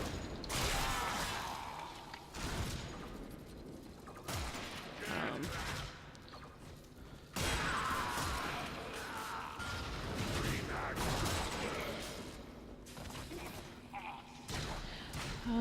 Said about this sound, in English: I'm just kind of shooting my way out of here.